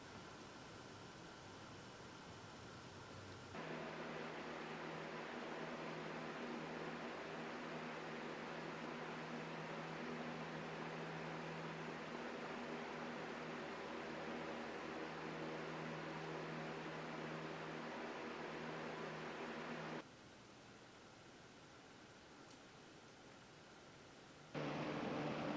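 Heat-powered stove fan sitting on a homemade sand battery heater of sand, candles and copper, a quiet steady whir with a faint low hum that starts a few seconds in and drops away near the end.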